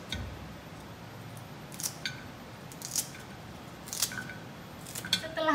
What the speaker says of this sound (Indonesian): Lalu kita potong mahkotanya agar sangat-sangat pendek.